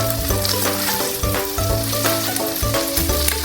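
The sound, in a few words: garlic frying with BBQ style pork belly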